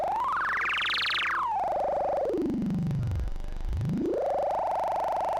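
Output of a Xaoc Devices modular synth module's ripple component: a pure sine-like tone sweeping up, gliding down past a step, diving to near silence, then rising back and holding steady, loud and alone.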